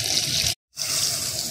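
Water is poured into a cooking pot of beef haleem, a steady close splashing stream. A brief break in the middle is followed by more pouring.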